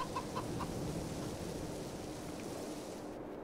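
Chickens cluck in a Farming Simulator 22 farm scene, soft and busy over a steady low ambient rumble, with no one talking.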